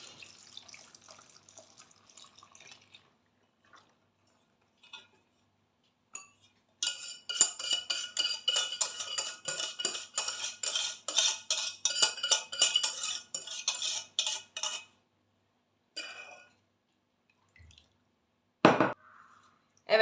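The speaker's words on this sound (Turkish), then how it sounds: "Evet, şimdi süzeyimden geçireceğim." Starch and milk mixture being strained through a sieve for a milk pudding dessert, with a long stretch of dense, rapid metallic scraping and tapping in the middle, quieter clinks before and a few isolated knocks after, heard close with no talk.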